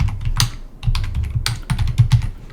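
Computer keyboard typing while code is written, a near, uneven run of rapid clicky keystrokes in short bursts with brief pauses, no talk.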